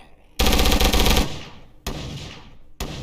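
Video-game gunfire crackles close and loud: a dense automatic burst of rapid shots lasting under a second, then two shorter bursts after brief pauses, with no talking over it.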